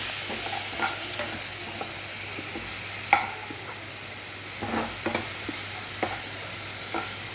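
Spice paste with cumin powder and a little water fries in a pan, with a soft continuous sizzle and occasional scraping stirs and clinks from a spoon.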